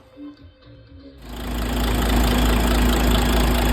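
A DAF 105 truck engine starts up after a faint rumble and settles into an even, loud, steady diesel idle with a constant low hum.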